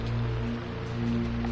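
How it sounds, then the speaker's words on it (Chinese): Steady rain pours down in a continuous, even hiss of falling water, fairly loud and close, with no voices. "下雨了。"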